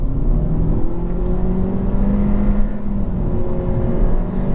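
A nearly new 2022 Honda Civic Hatchback with a CVT accelerates at full throttle, its engine droning loudly and steadily with a rising, continuous note heard from inside the cabin, no talking.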